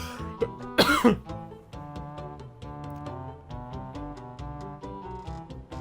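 A short burst of coughing stands out near the start over steady, plucky game music that keeps playing throughout, from Monkey Island 2: LeChuck's Revenge.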